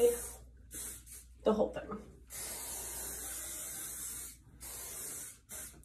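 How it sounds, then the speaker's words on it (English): Several short bursts of aerosol hairspray hissing up close onto hair, one long spray in the middle, with a voice speaking briefly between them. "I take my Love & Crew hairspray and just spray"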